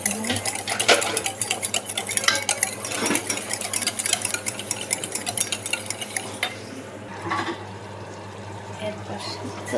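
Yogurt is stirred briskly in a bowl, close-up rhythmic scraping and clinking of utensil against the bowl, loud and continuous for several seconds before stopping and leaving quieter background.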